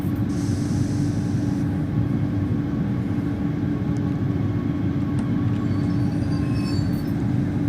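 A Talent 2 electric multiple unit runs between Dresden and Riesa in the simulator Train Sim World 2. It gives a continuous rolling rumble with a steady low motor hum, and brief faint higher squeals and clicks ride over the track noise.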